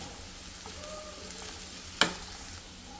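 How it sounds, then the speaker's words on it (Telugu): Potatoes fry in a pan with a steady, moderate sizzle that has a faint hiss beneath it. A single sharp clack of a utensil sounds partway through, and no one speaks. "సో ఆలు అయితే వేగిపోయింది, చాలా ఫాస్ట్గా వేగిపోతుంది అన్నమాట ఆలు."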